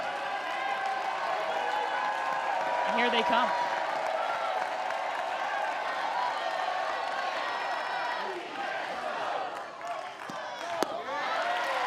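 Softball stadium crowd at an NCAA regional game between UCF and Florida State, a steady roar of cheering and scattered applause filling the whole stretch, with a commentator speaking over it.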